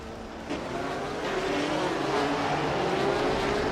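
Race car engine of a March 711 Ford in a racing video game on a tight street circuit, a steady droning whine with rising pitch sweeps, continuous and fairly loud throughout.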